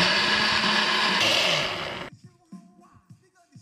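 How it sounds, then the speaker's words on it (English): A blender powered by a Jackery portable power station inside a camper van runs loud and steady for about two seconds, then cuts off, leaving only small knocks and movement. "We've got our blender."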